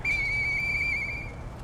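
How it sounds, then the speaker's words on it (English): In the video game Lies of P, a dog whistle blows as a single clear, high, steady tone lasting just over a second before cutting off, with a faint ambient bed beneath it. "use the whistle."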